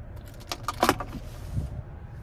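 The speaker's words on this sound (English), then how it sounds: "here's the key fob with remote start" A key fob with remote start for a 2024 Buick Enclave Essence jingles briefly in the hand, a short cluster of close metallic clinks peaking midway, then fading.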